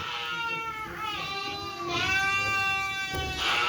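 Sheep and lambs bleat in a few drawn-out, wavering calls that overlap one another, fairly close and clear over a quiet outdoor background, with no talking.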